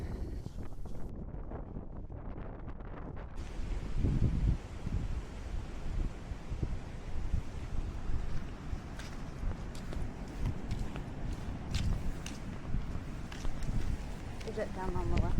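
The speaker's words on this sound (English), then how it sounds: "You can just see how windy it still was and raining still at the end of our tour." Strong wind buffets the microphone in a steady roar during a rainy boat tour off Maui, with faint voices underneath.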